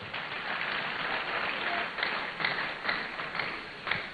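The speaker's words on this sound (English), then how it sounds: "Please let's give him a round of applause." Soft, distant applause fills a university auditorium at a national youth forum as an audience claps for a Director General, a faint, steady patter with a few slightly stronger bursts.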